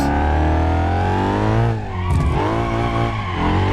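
A Bolide car converted for drifting in BeamNG Drive howls at high revs while its tires squeal through a slide. The engine dips and climbs again midway, loud and close, with no voices.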